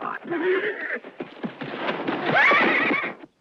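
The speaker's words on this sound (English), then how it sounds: "All right, Dusty, I'm going to show you something about breaking a horse." A horse whinnies loudly and repeatedly while being broken in a Wild West setting, with hoof clip-clops and brief shouted voices mixed in, the neighs rising to a shrill peak near the end before stopping abruptly.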